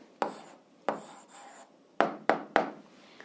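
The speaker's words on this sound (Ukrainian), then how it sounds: "Записуємо відповідь, пишемо відповідь." A pen scratches out an answer by hand on paper in short, quiet bursts: a few separate strokes, then three quick strokes close together, near and isolated.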